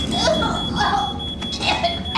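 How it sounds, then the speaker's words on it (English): A steady high-pitched electronic beep of a smoke detector alarm drones continuously over a noisy, clattering background. "Sounds like a smoke detector"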